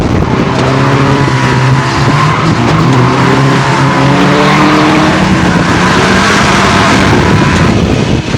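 Banger racing cars roar around an oval raceway after the green flag falls, a loud continuous wash of revving engines with shifting pitch and occasional tire noise, heard from trackside.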